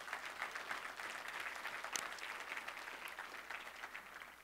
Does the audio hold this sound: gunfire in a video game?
no